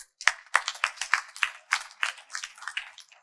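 A seated audience at a spiritual workshop in Visnagar, Gujarat claps for about three seconds. The hand claps come close and are spaced in a loose, uneven rhythm, with no voices over them.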